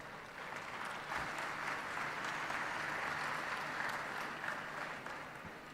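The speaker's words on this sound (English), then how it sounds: "Ladies and gentlemen, can we have a huge round of applause for Mr. Melvin Rufus" A conference audience at a research, innovation, design and entrepreneurship event breaks into sustained applause after a speech, a dense wash of clapping that swells and holds steady, heard somewhat distant and soft.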